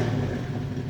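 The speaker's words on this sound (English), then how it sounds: "The 50 Series Delta Flow mufflers have a rumble to them, and you'll be heard when you arrive." Dodge Challenger exhaust through Flowmaster 50 Series Delta Flow mufflers gives a brief, steady low rumble at moderate volume, heard alone.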